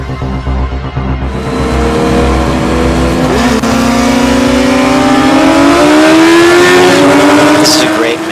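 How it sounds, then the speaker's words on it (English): A Kawasaki ZX-10 motorcycle races a 900 horsepower Toyota Supra at a drag strip, engines revving hard and climbing in pitch through gear changes, loud and close, building to a roaring pass. "the ZX-10 managed to squirt away briefly before the 900 horsepower Supra takes it down well before the finish line"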